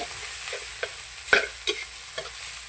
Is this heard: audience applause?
no